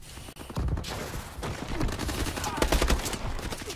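Rapid automatic gunfire in Call of Duty Advanced Warfare, with dense bursts of shots and impacts crackling near and loud, mixed with faint game sounds and some talk.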